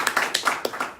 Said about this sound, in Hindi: एक बार तालियों से गड़गड़ाहट से इनका स्वागत किया जाए